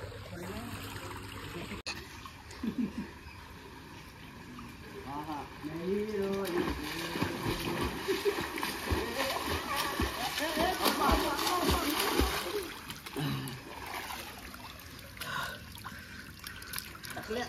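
Water splashes and sloshes repeatedly as people move about in a farmhouse swimming pool, with voices talking and calling out over the noise.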